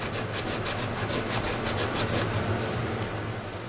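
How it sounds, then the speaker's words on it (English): An aluminum sputter target is polished and ground to strip oxide, making a steady, close, rhythmic scraping rub with regular back-and-forth strokes and no talk. "after a little polishing and grinding, we got a lot of the oxide off the target"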